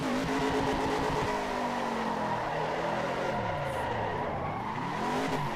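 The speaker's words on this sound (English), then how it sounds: "It almost bogged down there when I let the revs get too low" Race car engine in the Assetto Corsa EVO racing game, a continuous loud drone whose pitch sags and wavers as it bogs at low revs, then climbs again, with tire squeal mixed in.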